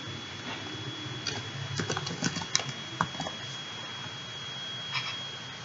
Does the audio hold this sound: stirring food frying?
no